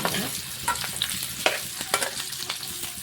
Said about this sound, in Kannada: ಹಾಗಾಗಿ ನಾವು ಸ್ವಲ್ಪ ಫ್ರೈ ಮಾಡ್ಕೊಳ್ಬೇಕು